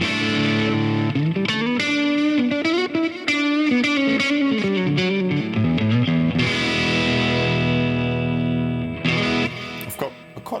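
An electric guitar plays through a modelled Fender Bassbreaker 15 amp on the medium gain channel, turned low on a Fender ToneMaster Pro. Sustained chords and bending notes ring with mild distortion, and there are short pauses and a final strummed burst.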